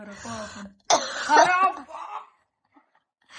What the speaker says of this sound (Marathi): मला खोकला लागला